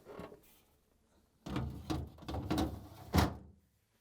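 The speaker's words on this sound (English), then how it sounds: "I'm going to place it on the rails and then push it in" A plastic crisper pan for a Whirlpool/KitchenAid/Maytag refrigerator is set on its rails and pushed in, giving a faint knock, then a scraping slide with rattles and a final bump as it seats, quiet and close.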